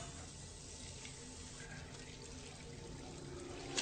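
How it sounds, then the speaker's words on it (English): Hot water running from a sink tap, a steady and faint hiss of flowing water that continues without a break and has no talking over it. "The hot water turned itself on."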